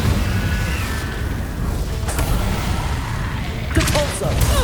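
A Confringo spell blast in Hogwarts Legacy combat, with booming bursts and sharp cracks over a constant roar of battle noise and a strong impact near the end.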